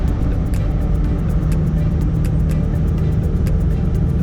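Mercedes-Benz Axor 3344 truck diesel engine holding steady around 1,100-1,200 rpm, a loud continuous low rumble with a constant tone throughout, no speech.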